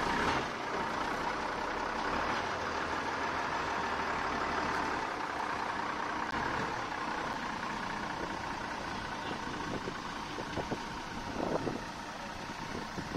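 A truck loaded with bamboo reverses on a road, its engine running steadily and loud throughout, with a dense mechanical rumble and faint higher-pitched beeps near the end.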